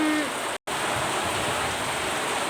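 Heavy rain with hail pelting down in a steady, dense roar, close and loud throughout, with a single brief dropout partway through.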